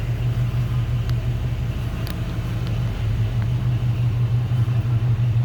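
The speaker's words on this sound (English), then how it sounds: "I'll get to the back so you can hear the exhaust." A 1954 Oldsmobile 98 Starfire convertible idles with a steady, deep exhaust rumble, close and continuous, with no voices over it.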